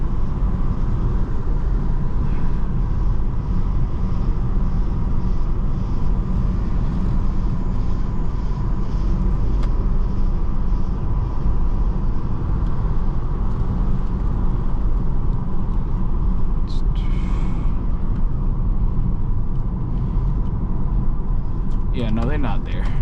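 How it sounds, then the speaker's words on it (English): A car drives down a road late at night, its steady engine and road rumble continuous and close throughout, with a few faint clicks and creaks inside the cabin. "I really do enjoy these drives late night, where I can drive and see the night dark"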